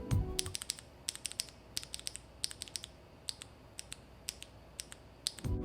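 A Hirose Cherry Orange linear keyboard switch fitted with a Cherry MX keycap is pressed repeatedly, giving sharp, crisp clacks in quick irregular clusters, close and alone over faint background hiss.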